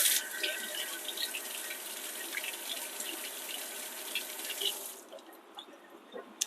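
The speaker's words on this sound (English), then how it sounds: "let's wash our tomato" Tap water runs into a sink as a tomato is rinsed beneath it, a close steady splashing stream that cuts off near the end, leaving a few faint drips.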